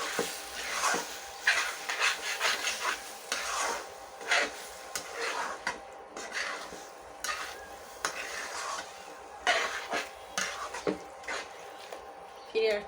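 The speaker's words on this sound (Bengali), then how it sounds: "আর একটু সামান্য পরিমাণ লবণ দিয়ে আবারও ভালো করে মিশিয়ে দিয়ে কিছুক্ষণ রান্না করে নেব।" Hilsa fish head and taro greens stirred and mixed in a pan, with a steady run of scraping and clacking strokes over gentle sizzling, close up and moderately quiet throughout.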